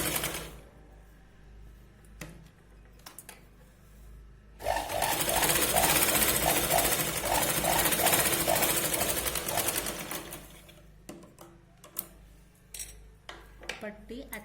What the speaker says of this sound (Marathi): वरती या पॉइंटला आपल्याला दाब शिलाई लावून घ्यायची